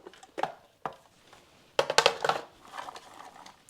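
A knife dicing an onion taps on a cutting board in a few scattered chops, then a quicker flurry of close, crisp cuts, with no talking.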